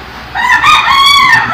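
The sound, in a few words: rooster crowing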